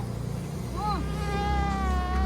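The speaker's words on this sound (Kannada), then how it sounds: "ಸೊಳ್ಳೆ ಎಲ್ಲಿ ಸಿಗುತ್ತೆ?" A mosquito whines with a thin, steady, high-pitched buzz that wavers briefly and then holds close and clear, with no talk over it.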